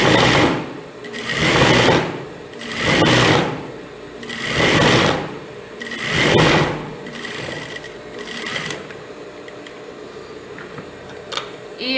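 A sewing machine stitches a seam on a boy's boxer shorts in five loud, close bursts of rapid whirring chatter, separated by short pauses, then a quieter hum at the end.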